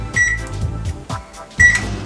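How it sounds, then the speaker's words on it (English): Microwave oven heating hilsa fish for a Bengali mustard curry: a loud, steady running hum broken by brief pauses, with a sharp electronic beep near the start and another near the end. "I'm taking out the fish and putting it into the microwave. You're going to do it for 2 minutes first."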